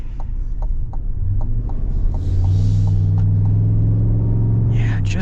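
A 6.2-litre V8 in a 2024 GMC Yukon Denali Ultimate XL accelerating, a deep low rumble that swells and holds steady inside the cabin while faint regular ticks tap along.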